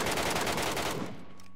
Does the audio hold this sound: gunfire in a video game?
yes